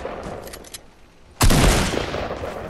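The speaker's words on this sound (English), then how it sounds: "I hear shooting" Gunfire in the video game Fortnite: a few faint distant shots crackle early, then a loud, sudden close burst of rapid fire with booming impacts that tails off over about a second.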